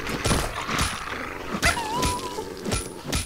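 Dogs growling and barking in the game Fallout New Vegas, several sharp yelps and snarls over constant background noise, close and fairly loud.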